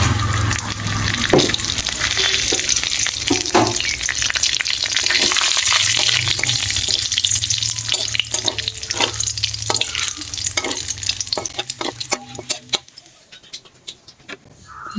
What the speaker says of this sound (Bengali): আর একটু তেল দিয়েছি ফোড়নগুলো দিয়ে দিই